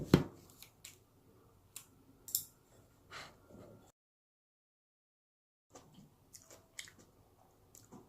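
Someone eats bibimbap mixed with spinach, bean sprouts, tofu, kimchi, anchovies and gochujang, with faint, close crunchy chewing and scattered clicks, and a few seconds of silence in the middle.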